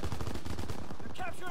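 Rapid automatic gunfire rattles in quick bursts during Call of Duty: WWII combat. It is close and loud, and a voice cuts in briefly at the end.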